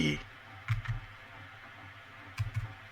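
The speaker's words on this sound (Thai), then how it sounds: "โดยเราพิมพ์คำว่า SUT ก็ได้นะครับ" Computer keyboard keys are tapped in two short clusters of clicks, close but fairly soft, over a quiet room background.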